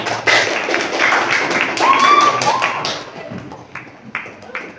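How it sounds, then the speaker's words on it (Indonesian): Classroom applause: a burst of clapping and tapping from students, loudest early and fading after a few seconds into scattered claps, with voices mixed in. "Tepuk tangan untuk juga para."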